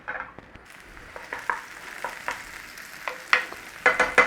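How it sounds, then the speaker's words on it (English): Chopped onions sauté in oil in a pan for a gravy, a soft steady sizzle punctuated by frequent spatula scrapes and taps that grow sharper and more rhythmic toward the end. "chop some onions, get them in a pan with some oil and start sauteing them down"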